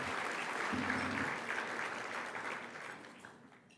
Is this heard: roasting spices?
no